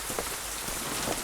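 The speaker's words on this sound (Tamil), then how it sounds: "ஐயோ மழை பெய்யுது, உள்ள வாங்க சார்." Rain falling steadily outdoors, a dense, even hiss of drops hitting surfaces at close range, with no voices over it.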